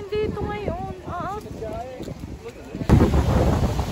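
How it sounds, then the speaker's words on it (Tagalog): Wind buffets the microphone with rough gusts in Malta, growing stronger toward the end, while a person talks over it. "Sobrang lakas ng hangin dito ngayon."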